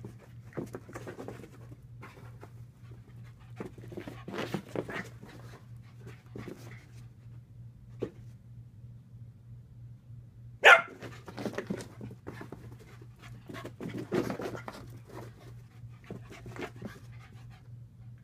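An Australian dog pants and sniffs close by over a low steady hum, with quiet scuffles, a sharp bark partway through, and more snuffling and movement afterward.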